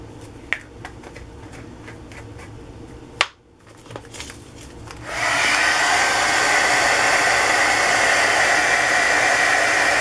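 A heat tool blows hot air onto embossing powder on a cupcake-wrapper paper craft piece, starting after a few faint clicks and taps as a loud, steady broadband whoosh that holds to the end.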